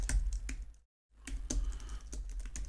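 Close rapid typing on a computer keyboard, a steady patter of clicks broken by a brief silent pause before resuming.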